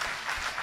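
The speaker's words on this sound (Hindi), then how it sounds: "आपकी जोरदार तालियां उठें मां के वंदन के लिए" Brief burst of audience applause at a poetry gathering for a poet, a dense wash of many hands clapping at once.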